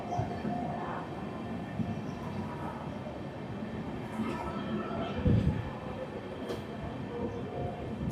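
Ramnagar–Dehradun Express running along a hillside line in rainy weather, a steady low rumble of rolling wagons, moderately loud throughout with a heavier thump near the middle.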